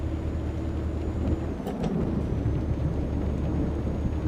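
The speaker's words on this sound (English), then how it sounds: "And some thunder and some rain." Thunder and rain in the truck-driving game Euro Truck Simulator 2: a deep thunder rumble rolls in partway through over a steady hiss of rain and a droning truck engine.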